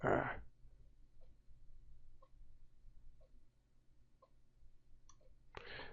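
Several soft, isolated mouse clicks spaced about a second apart over quiet room hum, with louder rustling bursts at the start and end.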